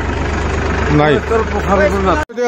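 A farm tractor engine chugs at a steady idle in Tamulpur, a loud low throb beneath a talking voice that cuts off abruptly at the end.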